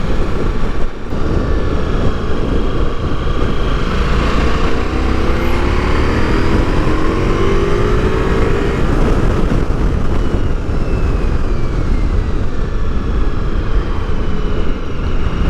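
Ducati Multistrada V4S Grand Tour motorcycle being ridden, a steady, loud engine drone with rising and falling revs and strong wind rush throughout, continuous with no speech.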